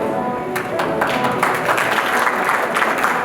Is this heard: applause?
yes